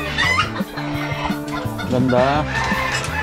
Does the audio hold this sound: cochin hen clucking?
yes